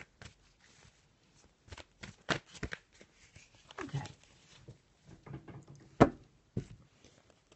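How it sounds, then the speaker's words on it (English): Shuffling of a black and white Faulkner tarot deck: soft, irregular card riffles and taps close to the microphone, quiet overall with a sharper snap near the end. "just going to have a little shuffle of the black and white Faulkner tarot deck"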